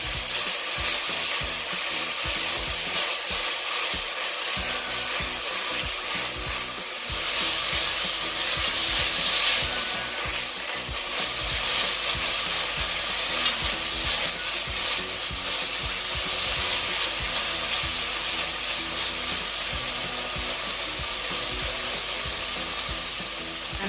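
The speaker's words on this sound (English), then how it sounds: "and I also will be adding my bell pepper, the tomatoes, and the thyme. I'm just going to saute these." Bell pepper, tomatoes and thyme sauté in a pan for beef quesadillas, giving a steady, dense sizzle that holds evenly for the whole stretch, close and fairly loud, with no talking.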